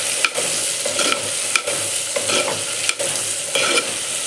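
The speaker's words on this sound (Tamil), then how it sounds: "இப்போ இந்த வெங்காயம் வணங்கன்னு நம்ம அரைச்சிட்டு வந்த மசாலாவை இதில் ஊற்றி வணக்கிடுவோம்" Ground masala paste sautéing with onions in hot oil for a garlic kuzhambu, a loud continuous sizzle punctuated by regular spatula scrapes roughly every half second to second, close and without speech.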